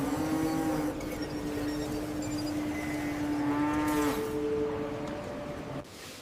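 Cattle lowing during a health inspection inside a large modern facility, with several long sustained moos over a steady mechanical hum, fairly loud and close.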